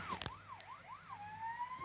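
A police car siren in a video game sweeps up and down in a rapid wail, then settles into a steady high tone, loud and close with no talk.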